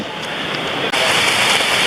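Continuous rushing water from a waterfall on the Kalalau Trail along Hawaii's Napali Coast, a steady close hiss that gets slightly louder after a brief dip partway through.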